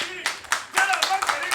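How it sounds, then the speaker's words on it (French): Scattered, thin applause from an audience, a few people clapping unevenly in short bursts, close and moderately loud. "cet applaudissement-là n'est pas bien nourri"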